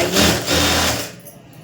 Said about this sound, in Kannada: ಅದನ್ನು ಸ್ಟ್ರೈಟಾಗಿ ನಾನು ಸ್ಟಿಚಿಂಗ್ ಹಾಕ್ಕೊಳ್ತೀನಿ